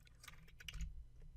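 Rapid keystrokes on a computer keyboard while a query is written in a database tool, a quick burst of close, light clicks with no talk.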